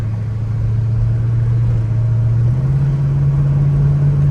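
A 1969 Plymouth GTX with a Hemi engine hums steadily from inside the cabin while driving, a loud, even low drone whose pitch rises slightly partway through.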